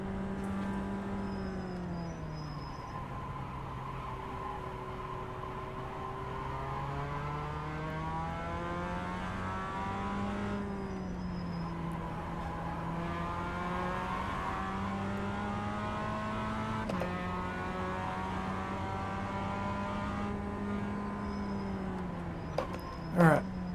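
A race car engine in the iRacing simulator hums and whines through a slow lap, its pitch rising and falling steadily as it speeds up and slows again, close and continuous throughout.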